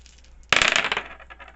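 Dice are rolled and dropped onto a hard surface, a single clattering impact followed by a brief rattling bounce that quickly fades.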